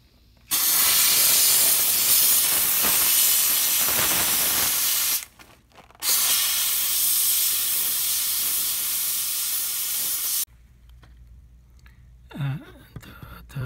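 A steam cleaner used on a Canon printer printhead bursts out loud, steady hissing in two long blasts separated by a short gap, followed by quieter rustling and a soft thump.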